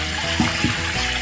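Cold tap water running over boiled noodles in a sink, a steady close splashing stream with a couple of brief louder splashes as the noodles are moved about.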